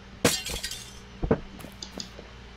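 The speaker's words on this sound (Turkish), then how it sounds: "Kendi evimin bütün camlarını kırmak istiyorum." Window glass shatters twice in the video game Hello Neighbor, each a sharp crash followed by tinkling shards, with a few lighter clinks trailing after.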